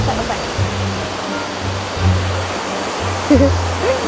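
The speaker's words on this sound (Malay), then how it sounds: "Itulah air terjun yang terbesar." A large waterfall roars as a steady, broadband rush of falling water, loud and close throughout, with brief faint voices over it.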